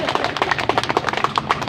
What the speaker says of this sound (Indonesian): Tepuk tangan lah, Bu.